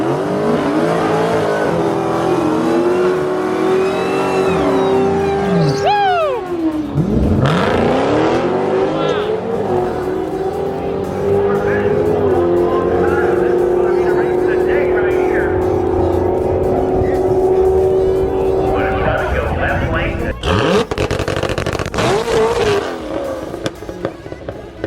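A Dodge Demon drag racing down the strip, its engine revving up through rising gear pulls with whining tones, then sweeping past near and loud, followed by more distant car noise and crowd sounds.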